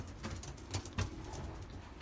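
Belgian racing pigeons, young birds in a loft, give low soft coos that swell twice in quick succession over a steady murmur of the flock.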